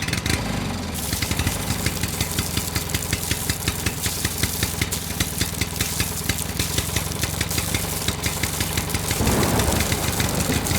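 A motor pump engine drains a pond in a cartoon, chugging loudly and steadily in a fast, even rhythm that sounds close and continuous throughout, with no voices.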